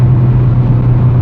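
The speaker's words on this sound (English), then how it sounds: "As you can hear from this exhaust, it is extremely enjoyable." Exhaust of a 2020 Hyundai Veloster N, a loud, steady low drone heard close up with no talking over it.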